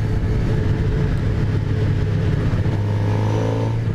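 A 2018 Suzuki GSXR750 motorcycle engine roars steadily and loud through a high gear, its tone climbing as it accelerates near and alone without voices.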